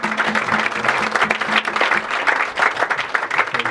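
A church congregation applauds together, dense steady clapping close and loud for a few seconds without a break.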